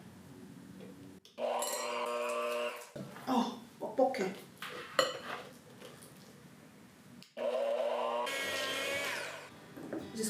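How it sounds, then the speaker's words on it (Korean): An electric hand mixer whirs steadily in two bursts, loosening cream cheese in a mixing bowl for Basque cheesecake, with a stretch of talking and clattering in between. "가볍게 핸드믹서로 풀어줄게요."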